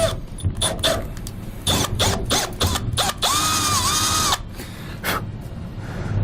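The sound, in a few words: 9/32 drill bit drilling through Ford van roof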